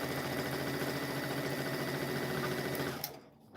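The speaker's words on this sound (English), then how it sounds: "We are gonna go ahead and put a seam down here, 1/4 inch all the way down." A sewing machine stitches a quarter-inch quilt seam, its rapid, even needle rattle running steadily and close for about three seconds before it stops abruptly, leaving quiet.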